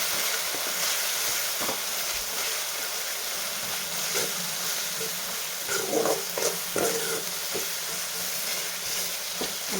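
Kashmiri chili powder sautéing in oil, a steady broad sizzle close by with intermittent scrapes and clicks of a spoon stirring, a few louder crackles in the middle, continuous for the whole stretch.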